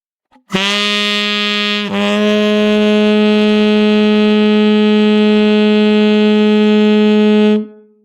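A saxophone sounds a single long, steady harmonic that shifts slightly in pitch early on, then holds for about seven seconds before cutting off.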